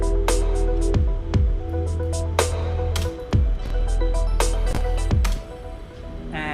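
Layered live-looped electronic music with sustained synth pads under a punchy kick, snare hits and a bass line, steady and loud throughout with no voices.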